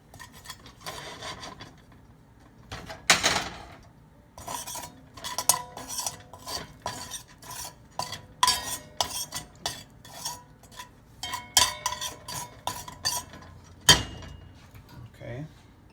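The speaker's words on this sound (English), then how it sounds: "So we're just gonna brown this up here for a little bit." Ingredients for curry shrimp brown in a pan over low heat, with scraping stirs and clinks of utensil on metal in irregular bursts, close and moderate, and faint voice underneath.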